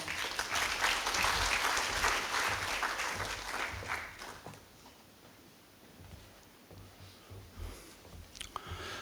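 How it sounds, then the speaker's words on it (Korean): Audience applause welcomes a speaker, a veteran construction professional, at a residents' information session on public support programs; dense clapping fills the first few seconds, then thins and fades to scattered claps and room noise. "진병훈 총무를 큰 박수로 맞이하여 주시기 바랍니다"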